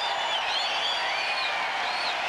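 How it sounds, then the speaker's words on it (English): A tennis crowd at a 1997 Rafter versus Agassi match roars and applauds in a steady, dense wash of cheering with a few whistles rising above it, sustained throughout. "Just listen to that crowd."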